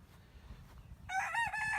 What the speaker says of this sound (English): the conversation they get with the rooster